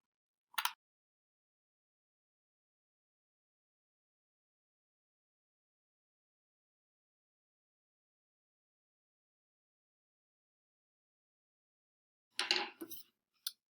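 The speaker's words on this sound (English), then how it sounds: "So cut the outermost frame out." Scissors snipping out a paper frame, a single short cut followed after a long silence by a quick cluster of close, crisp snips.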